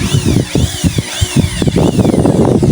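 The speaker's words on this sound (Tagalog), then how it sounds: "Nabala sa grinder. I-grind natin na ito para tanggalin." An angle grinder fitted with a steel wire brush scrubs metal on a YTX motorcycle part, its whine rising and falling in repeated sweeps over gritty scraping, loud and close throughout.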